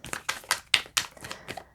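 Tarot cards being shuffled, a series of quick crisp flicking snaps at a steady rhythm, close and fairly quiet.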